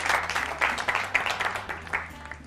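An audience applauds the winners with steady, moderately loud clapping in uneven surges over a faint low hum.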